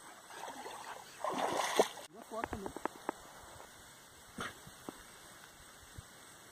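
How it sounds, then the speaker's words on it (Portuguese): A few light splashes as someone kicks water at a pond used for swimming, scattered short bursts under people talking nearby in a quiet outdoor setting. "Tá chutando a água aí?"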